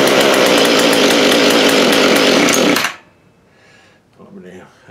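Small two-stroke engine of a Mantis tiller running loud and buzzy right after starting, then abruptly cutting off near three seconds, followed by quiet background and a faint voice.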